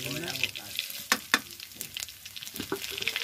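Garlic, onion, dried chilli, cumin and black cumin frying in oil as a tempering for sour khichuri, a close crackling sizzle with a few sharp pops and stirring clinks, fairly quiet.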